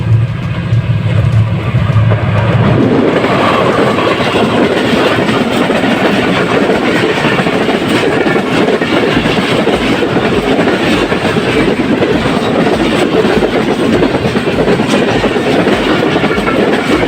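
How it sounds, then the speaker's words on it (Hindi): The 14 Awam Express, a passenger train bound for Karachi, passes Nawaz Dahri railway station in light drizzle. Its loud, continuous rumble carries rapid clickety-clack from the wheels and holds steady for the whole stretch, with no talking. "आज का तीसरा एक्शन 14 अवाम एक्सप्रेस कराची के लिए नवाज़ डायरी स्टेशन से गुज़र रही है।"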